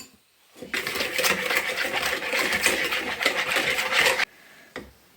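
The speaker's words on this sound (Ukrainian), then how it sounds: "Так, збиваємо." Rapid, steady clattering of a whisk beating egg with sugar and salt in a bowl, close and continuous for about three and a half seconds, then stopping abruptly.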